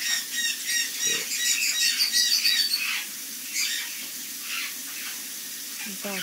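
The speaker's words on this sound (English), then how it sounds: "Background noise from the birds." Birds chirp and squawk in bursts in the background, bright and fairly close, with a faint trickle of running water beneath.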